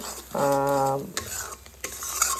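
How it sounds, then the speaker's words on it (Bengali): Spiced fish curry base being sautéed in a pan before fried prawns go in, brief scraping stirs and a soft sizzle, with a short tonal whine at the start, close and with no talk. "এবার দেখো এটাকে একটু ভালো করে কষিয়ে নেব"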